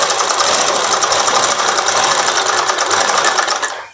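A sewing machine runs without a break while stitching a boat-neck saree blouse, a steady close whirr that fades out only at the very end.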